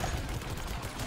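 Brief rattle of gunfire in Plants vs. Zombies: Battle for Neighborville, a cartoonish team shooter, heard as a loud, dense burst lasting about a second.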